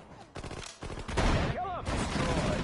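Bursts of rapid gunfire crack through a war video game battle, loud and dense, with a brief whistling tone midway.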